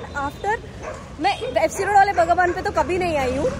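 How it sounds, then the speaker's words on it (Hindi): Dogs bark outdoors in a few short, sharp yips near the start, then are mostly buried as someone talks over them. "बहुत कुत्ता भौंक रहा है भाई"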